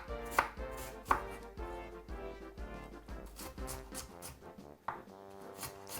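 A knife chops white onion on a cutting board, giving a fast run of close, crisp taps with a few sharper knocks, over faint background music.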